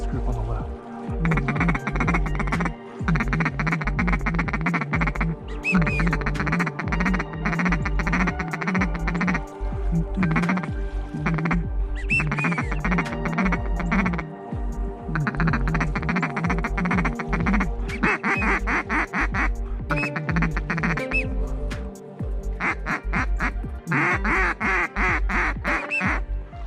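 Many teal ducks quack loudly at a hunting spot at shooting light, dense repeated calls in overlapping bursts that continue almost without pause, close and far birds mixed.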